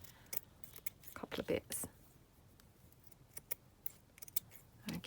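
Scissors snip through decorative paper trim in a few quick, quiet cuts, with soft speech breaking in between the snips.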